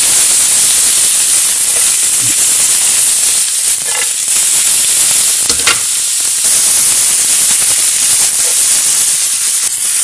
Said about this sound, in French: Poêle allume, un peu d'huile d'olive. On commence la cuisson des oignons.